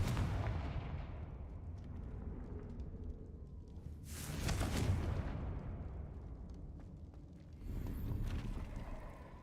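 A Confringo fire spell in Hogwarts Legacy goes off as a loud whooshing blast, followed by a second burst a few seconds later, both rising out of a steady rumbling game background.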